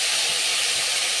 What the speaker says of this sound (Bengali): সেই তেলে আমি ফুলকপিগুলো জল থেকে তুলে আমি ভেজে নেব।